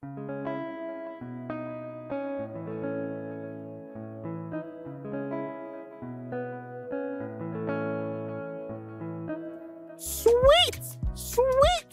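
A Kontakt jazz archtop guitar preset drenched in delay and reverb plays a gentle, repeating chord pattern with a steady rhythm, followed near the end by a few bright, sliding electronic blips.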